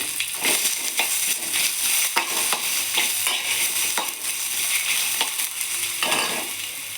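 Ginger, onion and turmeric fry in a pan for an egg curry, a steady close sizzle broken by repeated scraping stirs of a spoon against the metal.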